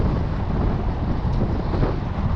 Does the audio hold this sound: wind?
yes